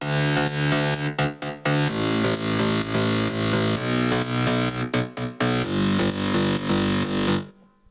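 A dense, distorted progressive house synth bass, a sub bass layered with a mid bass, drives continuously with a deep low end and a gritty upper layer, shifting notes every couple of seconds before cutting off.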